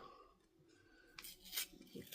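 Double-sided tape is ripped off fabric while a bag is prepped for sewing, giving a few sharp, crackly tearing bursts after a quieter stretch of faint background tones.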